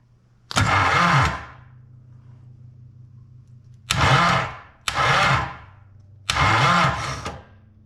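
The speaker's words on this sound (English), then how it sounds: "the starter gear there did stick a little bit until the engine made a complete compression rollover, and then it kicked out on its own" A homebuilt snowcat's starter motor, with its solenoid jumpered, cranks in four loud bursts, with a steady low engine idle running between them.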